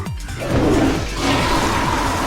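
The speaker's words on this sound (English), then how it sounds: "the culprit returned to the bathroom to flush Kokichi's clothes" A toilet flushes in the video game New Danganronpa V3, a loud close rushing roar of swirling water that fills the whole short moment with no speech.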